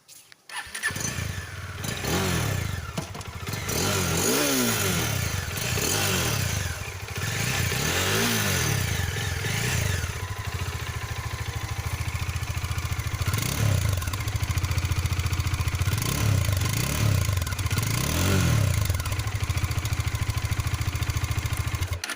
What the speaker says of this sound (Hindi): आइए मैं आपको सुनाता हूँ कि आखिर इसका एग्जॉस्ट नोट कैसा है